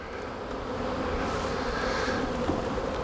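Honey bees buzz steadily around an open hive during an inspection, giving a continuous dense drone that swells slightly toward the end. Close and fairly loud, with no talk.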